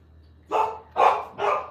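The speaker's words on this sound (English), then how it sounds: "The dog is going to bark." A dog barks at a package delivery, giving three loud, close barks spaced about half a second apart, each a short burst with nothing else around it.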